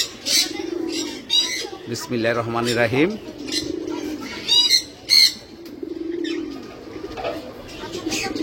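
Paired Chila pigeons coo in low, soft repeated phrases, with someone talking over much of the clip and a brief flutter of activity nearby.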